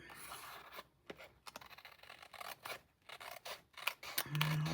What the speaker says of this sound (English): So, I'm trimming this up.